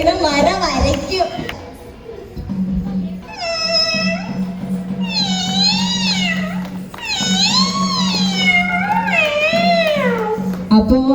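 A performer mimics a cat, with a voice doing a run of drawn-out, rising and falling meows one after another, loud and close, after a brief stretch of talk at the start.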